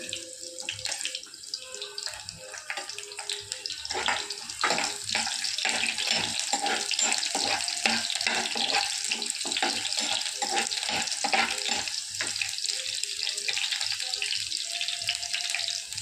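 Chopped onions sautéing in a pan, a loud continuous hissing sizzle with rapid crackles that builds after the first few seconds and holds steady, close up and without speech.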